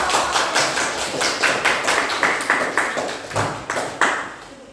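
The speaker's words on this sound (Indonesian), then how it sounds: "berikan aplaus untuk" A class group receives applause after its presentation, a small group clapping in a brisk, fairly even rhythm, loud and close, with no voices heard.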